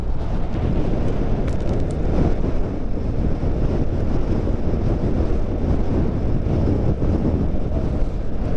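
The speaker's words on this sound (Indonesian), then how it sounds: "Dan anginnya cukup kencang teman-teman." Strong wind roars across the microphone during a motorbike ride along a quiet rural road past rice fields in Karawang, a continuous heavy buffeting rumble with no speech.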